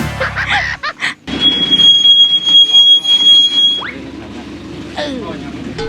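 Tourist tram pulls up in a Thai national park, giving off high squeals and whining tones as it approaches, while people nearby talk over it.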